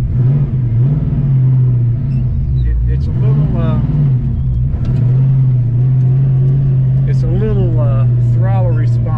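A 408 stroker engine in a Ford Fox Body rumbles loudly at a lumpy idle with several throttle blips and revs rising and falling, heard up close and continuously.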